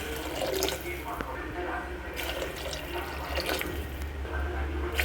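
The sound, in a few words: pouring water into the pot for soup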